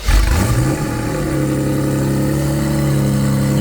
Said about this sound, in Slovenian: Kad to zalaufaš, ti motor ne šepeta, ampak rjove